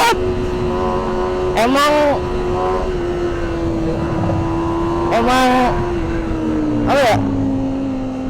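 A Kawasaki ZX25R motorcycle with its stock factory exhaust revs in sharp rising bursts over a steady idle, three loud climbs spaced a few seconds apart, heard close while someone talks over it.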